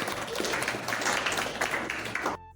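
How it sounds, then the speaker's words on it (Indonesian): Classroom applause for a student at a Jakarta vocational high school, a dense wash of many hands clapping together, steady and fairly loud for over two seconds before stopping abruptly. "Beri aplaus dulu buat Salsa."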